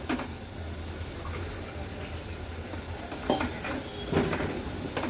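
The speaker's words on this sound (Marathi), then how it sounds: "गॅसची फ्लेम हाय करते आणि आता हे वाटण व्यवस्थित तेलावर मिक्स करून घेते।" Masala paste being stirred into hot oil in a pan over a high flame: a steady low sizzle runs throughout, with a few sharper spoon scrapes and clinks against the pan toward the end, close and without talk.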